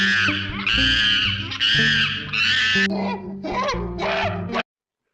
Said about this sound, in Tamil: குரங்கு